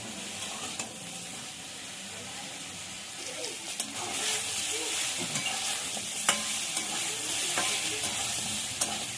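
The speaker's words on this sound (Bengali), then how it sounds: "বেগুনের সঙ্গে নুন আর হলুদটা মিশিয়ে নেব, দিয়ে একটু ভেজে নেব।" Eggplant mixed with salt and turmeric sizzles steadily in a hot pan, with occasional scraping stirs and clicks growing busier toward the end; no voices.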